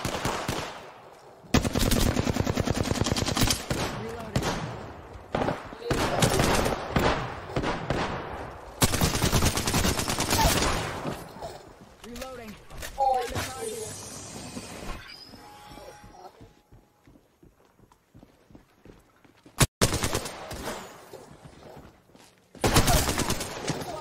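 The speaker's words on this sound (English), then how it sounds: "I am taking fire, friends." Automatic gunfire from an Alternator SMG in Apex Legends, played on Xbox One. Loud, rapid bursts rattle repeatedly with short gaps between them, and one sharp single crack comes near the end.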